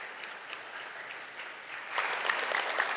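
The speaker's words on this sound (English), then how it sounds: "can you give your parents and family members a round of applause?" Applause at a fifth grade elementary school graduation: scattered, quieter clapping at first that swells abruptly into a fuller, louder round from the audience partway through.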